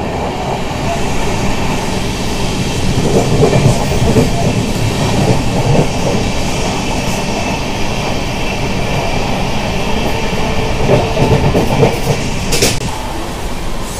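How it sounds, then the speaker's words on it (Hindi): Sealdah–Kamakhya fully air-conditioned LHB coach train running on rails, a steady loud rumble with rhythmic clatter heard from inside the carriage throughout, with no talk. "LHB ट्रेन में बैठ के जा रहे हैं, वो भी फुल्ली AC"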